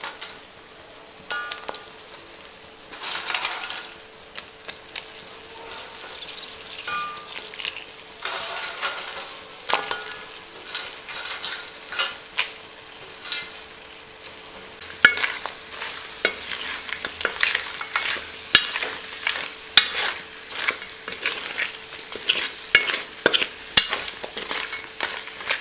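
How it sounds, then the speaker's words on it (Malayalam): Cleaned crab pieces stir-fried in masala in a pan, with steady sizzling and frequent scraping, clattering stirs that grow busier and louder toward the end. "ഇനി നമുക്ക് കഴുകി വൃത്തിയാക്കി വെച്ചേക്കുന്ന ഞണ്ട് അങ്ങോട്ട് ഇട്ട് കൊടുക്കാം."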